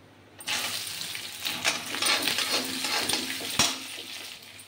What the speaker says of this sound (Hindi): प्याज मैंने डाल दिए हैं।